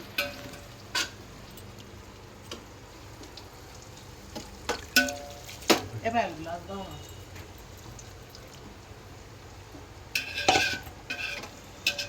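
Soaked rice tipped into a pot of hot water for chicken biryani, heard as scattered clinks, scrapes and short splashy pours against the pot, fairly quiet and close, with a low steady hiss underneath.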